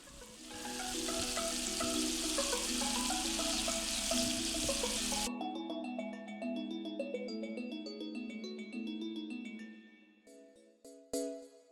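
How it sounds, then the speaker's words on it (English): Salmon fillet sizzles loudly and continuously in a hot pan for about five seconds, then the frying cuts out and gentle music plays on alone. "It's going to sizzle up a little bit, so just be careful."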